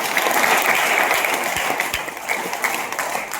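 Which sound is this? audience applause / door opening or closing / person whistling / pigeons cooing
audience applause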